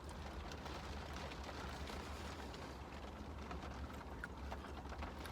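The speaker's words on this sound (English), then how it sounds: "Starting to get rain." Light rain is beginning to fall outdoors, a soft, steady patter and hiss with a low rumble underneath, faint and continuous, with no voices.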